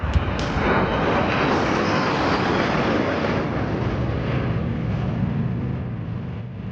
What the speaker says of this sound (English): If you're on a balcony, you have to look down to see the fighter jet pass below.